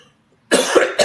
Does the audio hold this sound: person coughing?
yes